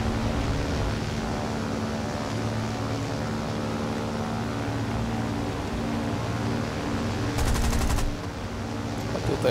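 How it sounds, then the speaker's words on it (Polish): A short burst of warning gunfire rattles out in a video game, a rapid automatic volley over a steady engine-like drone, with a sharp crackling flurry near the end. "Tutaj był tylko taki strzał na postrach."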